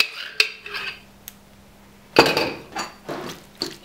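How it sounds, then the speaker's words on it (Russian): Tuna, chopped dill and mayonnaise mixed in a plate with a utensil, giving scattered clinks and scrapes against the dish in a few short bursts, close and fairly clear with no talking. "Сейчас нужно хорошенько все это перемешать, чтобы тунец пропитался майонезом."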